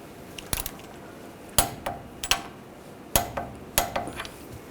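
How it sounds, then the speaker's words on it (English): A torque wrench tightens a castle nut on the steering rack and pinion of a 2007-2013 Chevrolet Silverado to 44 foot-pounds, giving a handful of sharp metallic clicks and ratchet ticks in irregular bursts, close and fairly quiet. "We're going to torque this to 44 foot-pounds."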